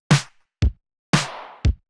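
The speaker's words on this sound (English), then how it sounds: "there's also a clap that goes only on the 4 every 4 bars, and it's almost a bad quality clap" Two pairs of crunchy, lo-fi hits: a gritty clap followed by a low thump, then a longer smeared clap and another thump, alone with no talk.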